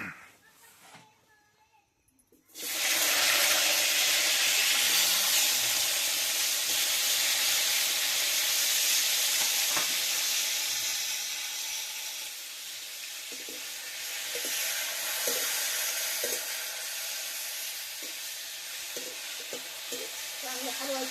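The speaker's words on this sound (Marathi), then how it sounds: "तेलामध्ये अगोदर वांगी भाजून घ्यायचे" Eggplant frying in oil bursts into a loud, steady sizzle after a brief quiet start, then hisses on continuously with occasional stirring clinks.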